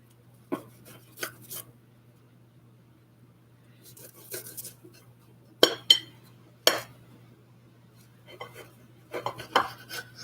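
A cheese knife cuts through a grilled cheese sandwich with pickle, giving sparse, sharp clicks and scrapes against a plate or board, separated by quiet gaps.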